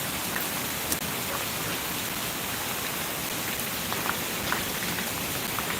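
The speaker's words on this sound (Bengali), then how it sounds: "বৃষ্টি চলে যাচ্ছে বৃষ্টি কমে যাচ্ছে" Rain falls steadily over Dhaka in a dense, even hiss of drops hitting surfaces, with a few faint distinct drips; the downpour stays uniform and close throughout, with no voices.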